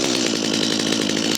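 A chainsaw started on half choke in deep snow runs loud and close at a steady buzzing roar for the whole moment, with no voices.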